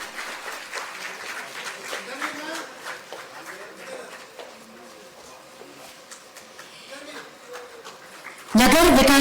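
Applause rises in a hall as appointment letters are handed out to selected candidates at a government ceremony in Jharkhand. Moderate clapping runs steadily and then fades a little before a sudden loud burst at the end.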